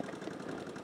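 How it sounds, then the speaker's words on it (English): A 2000 Kawasaki VN15 cruiser with some rust and a slight valve clearance noise idles quietly, giving a low, even, slightly ticking mechanical hum with no revving. "from listening to the engine, it all sounds sweet enough, but I can hear a like a valve clearance noise"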